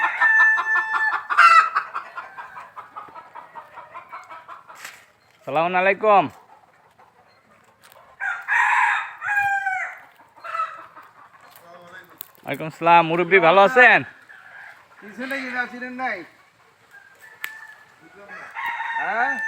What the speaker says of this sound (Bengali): এত সুন্দর সুন্দর দেশি মুরগি।